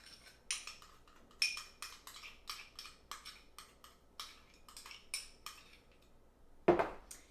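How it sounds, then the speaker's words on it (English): Soft coconut oil spooned into a bowl of homemade natural deodorant mixture, giving a run of light metallic clinks and scrapes of a spoon on the bowl at a steady rhythm, close and fairly quiet, ending with a sharper knock. "So I'm going to spoon this into my mixture."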